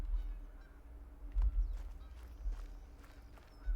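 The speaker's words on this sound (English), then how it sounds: "Is that geese honking?" Geese honking in theHunter: Call of the Wild, a few faint, scattered calls over low outdoor rumble and soft footstep-like thumps.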